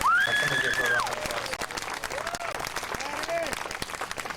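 Audience applause for a female vocalist joining a high school jazz ensemble at the Detroit Jazz Festival, steady clapping with a few whistles, following loud feedback-like tones, crowd noise throughout.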